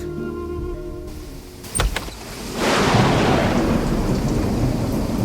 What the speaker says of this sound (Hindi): देखो बाहर देखो, कैसी आंधी और तूफान चल रहे हैं।